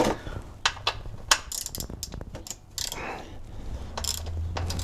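A 14mm wrench cracks open the transmission drain bolt on a Toyota 4Runner, producing close, sharp metallic clicks and ratcheting taps in an irregular series, followed by a low, steady hum.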